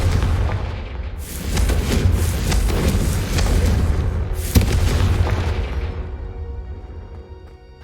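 Repeated Confringo spell blasts in the video game Hogwarts Legacy on PS5: loud, deep booming explosions that roll on one after another, with a sharp crack midway before the rumble fades out.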